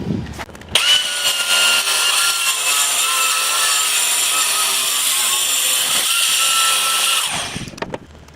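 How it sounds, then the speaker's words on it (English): An angle grinder cuts freehand through a granite slab, a loud, steady, high-pitched abrasive whine that holds for about six seconds after spinning up, then winds down at the end. "I have to cut it by hand, freehand with the grinder."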